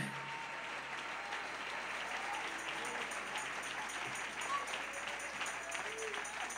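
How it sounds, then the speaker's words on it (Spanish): A church congregation applauds during an evening Spanish-language worship service, a sustained, fairly soft roar of many hands clapping in a large room, with faint tonal sounds drifting underneath. "Dele ese aplauso al Señor en esta hermosa noche."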